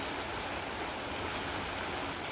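Steady, dense rain falls after a morning storm, a loud, continuous even wash of drops with no other sound standing out.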